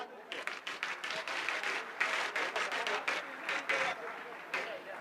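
Applause from a large audience at a Sanatan Hindu religious convention honoring a Mahamandaleshwar, dense steady clapping over the whole stretch with uneven swells, fairly loud and close.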